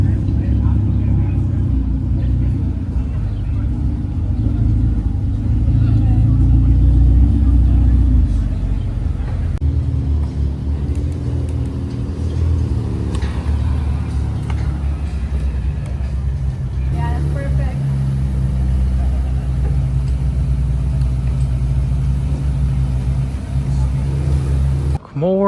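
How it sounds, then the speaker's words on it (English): Ferrari sports cars roll in along a red carpet at a car gathering in Toronto, their engines a steady low rumble with a few revs, under people talking nearby. "As a lot more Ferraris will be pulling in down the red carpet here."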